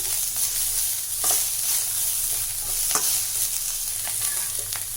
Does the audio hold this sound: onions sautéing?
yes